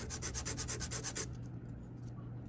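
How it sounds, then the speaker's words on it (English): Balsa wood piece being sanded by hand on an angle, a soft rapid back-and-forth rasping that is quiet and close, with a steady rhythmic run of strokes that trails off into lighter scuffing. "And now I start sanding it slightly on an angle to the line"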